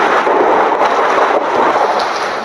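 Heavy rain pours steadily while thunder rumbles through it, a dense, loud and continuous storm wash with no voices.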